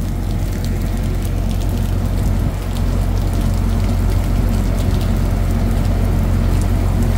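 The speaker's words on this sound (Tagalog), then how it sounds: "Lakas na ng ulan guys." Heavy rain pours steadily and loudly, a dense constant hiss and patter with a low rumble underneath, no voices.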